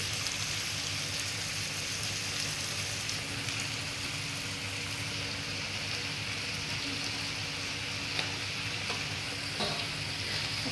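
Pork belly sizzles and crackles steadily in a hot pan as it is stirred, a dense, even frying hiss with occasional scraping clicks, close and alone without talk.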